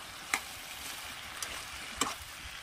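Fish and lentil dumplings are stirred in a pan over a medium flame, giving a faint, steady low sizzle broken by three brief scraping clinks of the spoon against the pan.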